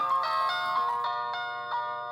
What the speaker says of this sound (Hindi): मेरा दोस्त का फोन है